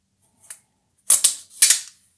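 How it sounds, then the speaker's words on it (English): A plastic seal is peeled off a dishwasher cleaner pack: a faint tick, then three crisp, loud crackling rips in quick succession, close and with no voice over them. "It says, peel off this seal right here."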